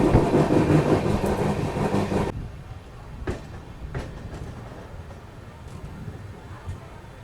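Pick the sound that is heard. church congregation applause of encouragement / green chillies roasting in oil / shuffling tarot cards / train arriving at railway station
train arriving at railway station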